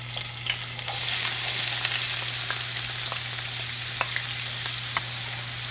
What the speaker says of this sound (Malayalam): എണ്ണ ചൂടായ ശേഷം നമുക്ക് കുറച്ച് തേങ്ങാക്കൊത്ത് അതിലേക്ക് ചേർത്ത് കൊടുക്കാം